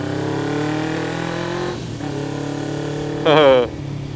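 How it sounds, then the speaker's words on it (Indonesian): A Suzuki GSX 250 Invader two-cylinder motorcycle idles with a steady, throbbing low hum, then gives a short, sharp rev near the end before settling back to idle. "Kalau bunyi kalian nggak usah tanya lagi, ini udah persis banget ya 2 silinder pada umumnya"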